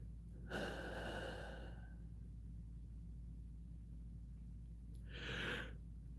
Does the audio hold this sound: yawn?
yes